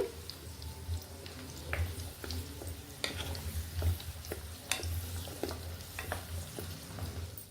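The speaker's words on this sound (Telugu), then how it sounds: "అందుకని ఇలా కొంచెం కలుపుకుంటూ వేయించుకోవాలి." Indian gooseberries (amla) are stir-fried in a pan over a medium gas flame, giving a faint steady sizzle broken by scattered scraping clicks of stirring, close and alone.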